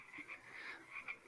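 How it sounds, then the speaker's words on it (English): Frogs croak in a steady chorus of repeated rasping calls around a muddy approach to a settlement, fairly faint and unbroken, with no voices. "You begin to hear the sounds of croaking."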